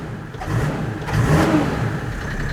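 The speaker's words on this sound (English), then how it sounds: "nice little revs." A Mercedes G-Wagon diesel engine idles, then revs up twice in short bursts, rising and falling close by.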